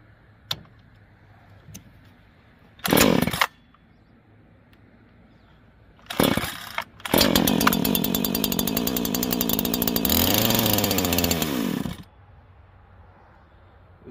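A Neo-Tec NH843 chainsaw in need of carburetor tuning fires in two short bursts, then roars into a sustained high-pitched run for several seconds before cutting off. The engine is close and loud, with no talking.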